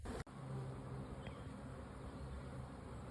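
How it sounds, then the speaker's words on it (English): Honeybees hum around their new hive outdoors on Signal Mountain near Chattanooga, Tennessee, a faint, continuous low buzzing from many insects with a brief dropout near the start. "You can see they're buzzing around"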